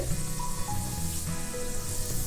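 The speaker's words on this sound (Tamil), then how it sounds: "கொஞ்சம் கடலைப்பருப்பு செவந்ததும் பொரிய ஆரம்பிச்சிருக்கு" Chana dal sizzling and crackling in hot oil in a pan, a steady close frying hiss with faint spluttering pops throughout.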